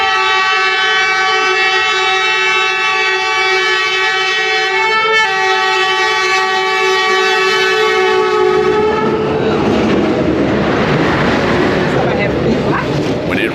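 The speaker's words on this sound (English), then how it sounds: "a train passes straight through a residential neighborhood" A train rumbles past close by through a residential street, its long horn sounding steadily, then giving way to loud rattling and clattering of the cars; voices are faint underneath.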